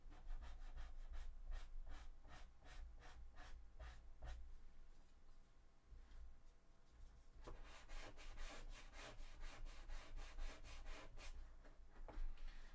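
Steady back-and-forth sanding of cosplay shoe armour for a Warhammer 40k Sisters of Battle costume, close and rhythmic strokes that pause briefly midway and then resume faster, with no talking.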